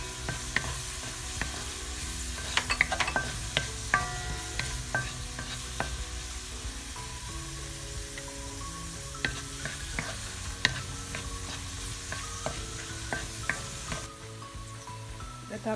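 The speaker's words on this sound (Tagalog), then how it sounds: "ihalo ko na yung garlic." Garlic stirred and sautéed in a hot pan for pork afritada: steady sizzling and frying with repeated scrapes and clinks of a spatula against the pan, close and continuous.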